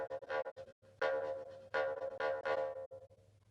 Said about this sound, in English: Or if it was to be some sort of accompaniment in a bluegrass band or something like that, it would sound like this.